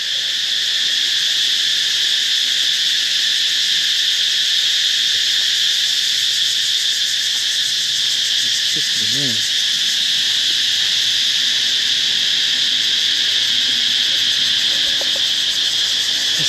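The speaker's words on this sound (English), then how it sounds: "Cicadas." Cicadas drone loudly and without pause in the tropical outdoors on Ko Samui, Thailand, a dense, unbroken high-pitched shrill that fills the whole stretch, with only a brief faint low call briefly audible partway through.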